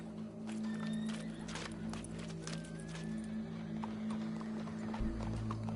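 Horse hooves clip-clopping steadily in Red Dead Redemption 2, a continuous walking rhythm over a low droning game ambience, with brief faint whinny-like tones.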